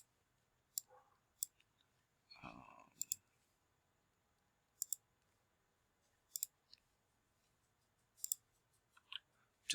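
A computer mouse gives small, crisp clicks at scattered intervals, close and quiet, with a short rustle of movement partway through.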